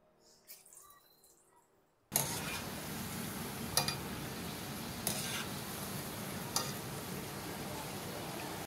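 Crispy onion pakoda (kanda bhaji) batter hitting hot oil: the hiss starts suddenly and carries on as a loud, steady sizzle, with a few sharp clicks and pops along the way.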